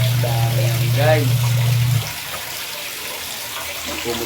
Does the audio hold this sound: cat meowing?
no